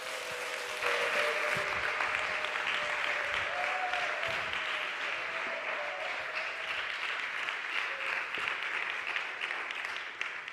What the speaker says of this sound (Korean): 우리 장로님 앞으로 모실 때 우리 큰 환호와 또 박수로 환영하도록 하겠습니다.